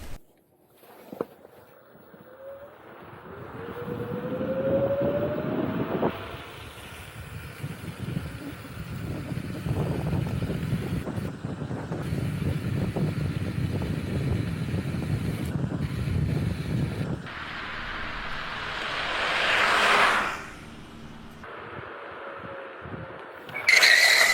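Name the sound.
Kaabo Mantis 8 dual-motor electric scooter at 25 mph, then braking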